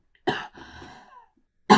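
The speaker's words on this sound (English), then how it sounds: "I need to cough 1 second." Two sharp coughs from one person indoors, close and fairly loud, about a second and a half apart, with a softer throaty breath between them.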